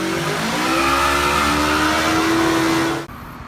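A Ford truck with a Cummins engine drives past loudly, its engine droning with a rising, revving tone for about three seconds before cutting off abruptly into quiet.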